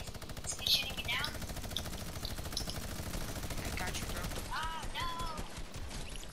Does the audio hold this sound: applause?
no